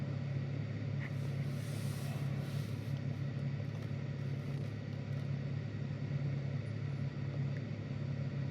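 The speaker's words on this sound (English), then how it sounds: "We've got no fans, nothing playing off the infotainment system, and just the idling noise is soothing." A 2025 GMC Sierra 1500 Denali engine idles quietly inside the cab, a faint, steady low hum with no fans or infotainment, constant and unbroken with no talking.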